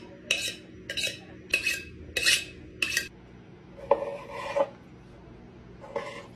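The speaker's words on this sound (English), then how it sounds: "You can sharpen knives with the back of a plate." A knife blade scraped in repeated rasping strokes along the unglazed back of a ceramic plate, five quick bursts, then two longer slower drags and a final pass, close and fairly loud.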